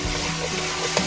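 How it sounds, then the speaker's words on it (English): Meat sauce for a meat-lovers lasagna gets stirred in a pot, a dense close bubbling sizzle with soft scraping texture, steady and alone for a brief moment. "now let's give this a nice stir"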